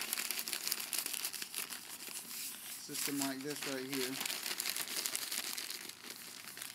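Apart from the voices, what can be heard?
crumpling and rolling a sheet for forge fire starting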